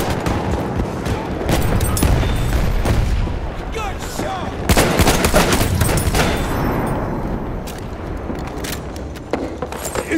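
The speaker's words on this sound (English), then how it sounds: "Gunshot!" Dense bursts of gunfire in a console first-person shooter match, layered shots and blasts crackling loud and close throughout with occasional heavier booms, while voices chatter in the background.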